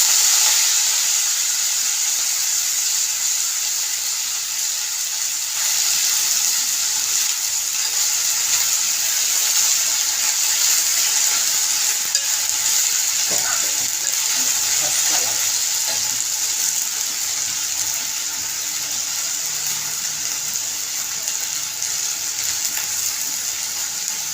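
Fenugreek leaves and soaked moong dal sautéing in a pan give a steady, loud sizzle that carries on unbroken, with occasional scraping stirs near the middle.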